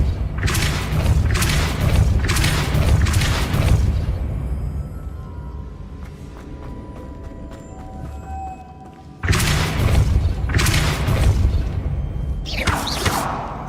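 A Depulso spell cast in Hogwarts Legacy, heard as heavy booming thumps with whooshing bursts, a cluster of impacts at first, a quieter mechanical stretch, then another round of loud blasts.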